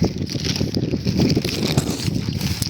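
Wind gusts across an open field vegetable garden after rain, buffeting the microphone in close, rough rumbles that surge and ease briefly.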